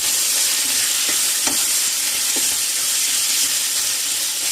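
Pork poured into a pan over high heat, stir-frying with a loud, steady sizzle and hiss, broken by a few soft scraping stirs.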